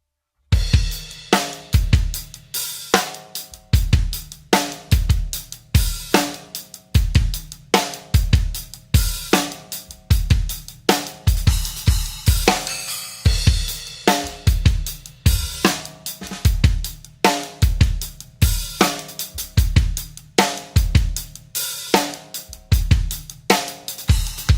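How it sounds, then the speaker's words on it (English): Drum kit groove with quick splash cymbal accents slipped between the hi-hat strokes as a fill leading into a pre-chorus; steady, loud rhythmic hits with bright cymbal crashes throughout, no voices. "coming out of it into the pre-chorus, I do a little bit of a splash fill between the hi-hats."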